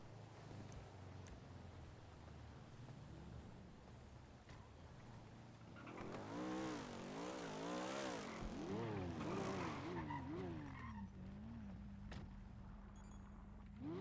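A car driving in the NoPixel GTA roleplay game, engine revving up and down in wavering pitch sweeps over steady game ambience, rising and falling through the middle of the stretch before settling into a steady drone.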